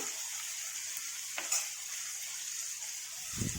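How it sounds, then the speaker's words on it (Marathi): Chopped tomato sautéing in a pan for a sprouted mixed-legume matki curry gives a soft, steady, hissing sizzle, with a faint stir or clink partway through and no talking. "टोमॅटो कट करून घेतलेला आहे ना ते टाकून घेणार आहे म्हणजे टोमॅटो सुद्धा छान परतल्या जातं"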